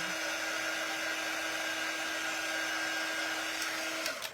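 A hair dryer blows steadily up close to dry paint on a shamrock door tag, a loud constant whirring drone with a high whine that cuts off near the end.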